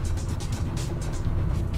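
A Volkswagen Golf R with all-wheel drive cornering hard on a road gives a steady, loud engine and tyre roar heard from inside or close by, with a continuous low drone and no talking.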